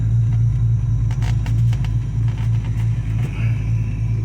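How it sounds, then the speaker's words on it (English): A 1970 Chevelle's LS3 V8, poorly tuned, runs at wide open throttle on the road with a loud, steady low rumble that holds close and continuous throughout, with no talking. "We're gonna do a wide open throttle."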